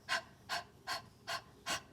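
A voice imitates a dog panting for the letter H, five quick breathy huffs in an even rhythm, close and soft, with no talking.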